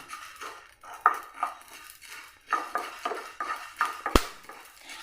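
Spices for chicken masala dry-roasted in a pan, stirred with a metal spoon that scrapes and clinks against the pan in uneven strokes, plus one sharp clang near the end; close, with no talking.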